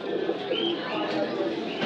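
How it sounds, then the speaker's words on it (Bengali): Satin pigeons coo softly at a busy pigeon market, their low throaty calls mixing with nearby chatter and steady crowd noise. "এখানে এক জোড়া কবুতর আছে শাটিন জাতীয়"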